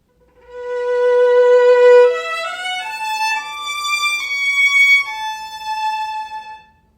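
A sustained bowed string note with vibrato from the very start, then shifting through a few further pitches, clear and solo with no talking.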